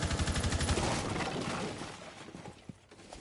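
Rapid bursts of gunfire and a dull explosion in a Rainbow Six Siege esports match. A dense clatter of shots fades into scattered, sharper reports, with no voices over it.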